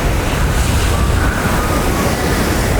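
Rough surf breaks on a beach in Pagudpud, Ilocos Norte, a loud continuous roar of waves buffeted by wind rumble on the microphone, with no talking.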